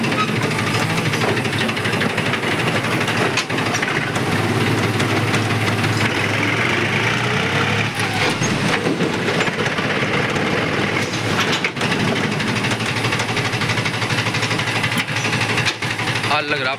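A self-started tractor engine runs steadily while hauling a trolley loaded with soil, giving a loud, continuous mechanical rumble with rattling undertones and no pauses throughout.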